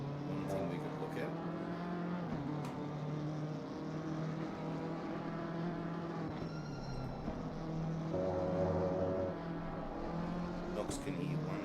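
A race car engine from a racing video game drones and revs on and off at Oulton Park, steady tonal whine with pitch shifts, under talk.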